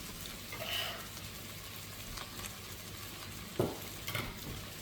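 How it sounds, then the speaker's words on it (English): Carrots tipped into a pot of beef bourguignon stew, giving a brief clatter and a soft sizzle over a steady low simmer, with a sharper knock near the end and no talking. "So now we're going to add our carrots."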